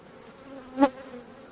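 A single honey bee from a hive of Caucasian and Carniolan bees buzzes past close by, a brief rising and fading drone over quiet background.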